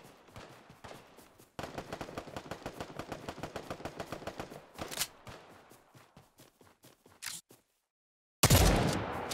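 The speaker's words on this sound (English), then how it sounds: "Shots going on over here." Rapid automatic gunfire in the battle royale game Apex Legends, long bursts of close, evenly spaced shots with short pauses, then a final loud blast near the end.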